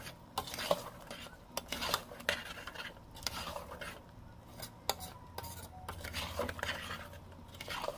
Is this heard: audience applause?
no